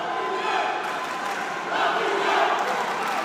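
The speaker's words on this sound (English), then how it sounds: "the fans trying to rally the boxer that they are cheering for in what is an absolutely raucous atmosphere" Boxing fans fill an arena with a raucous, continuous roar of cheering and shouting, swelling louder partway through.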